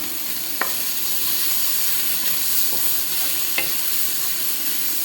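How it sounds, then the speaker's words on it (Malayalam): Onion, ginger and chili sautéing in a pan give a soft, steady sizzle and hiss, with a few faint stirring clinks scattered through it and no voices. "അപ്പോൾ നമ്മുടെ ഉള്ളിയും ഇഞ്ചിയും മുളക് എല്ലാം വശക്കിയിട്ടുണ്ട് കേട്ടോ"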